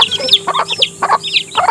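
Hens clucking close by in a backyard flock in the Philippines, a series of short, bright clucks in separate bursts over steady background hum, with no talking.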